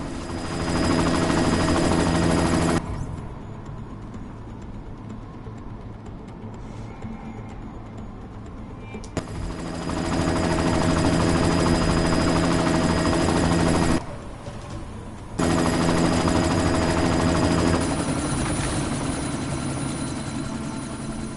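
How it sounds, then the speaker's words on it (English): Helicopter in the video game Deus Ex: Mankind Divided, a loud, steady rotor thump and engine whine that drops out and returns several times, with faint bursts of gunfire in the mix. "You've got to stop that chopper."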